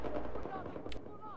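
Gunfire from an F2000 assault rifle in the video game Battlefield 4 on hardcore mode, a few sharp loud shots with echoing tails, one standing out near the end, while someone talks over them.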